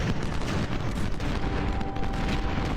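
Musket volleys in the Ultimate General: Civil War game at the Battle of Antietam, a dense, continuous roll of massed gunfire and booming rumble, loud and unbroken with no pause.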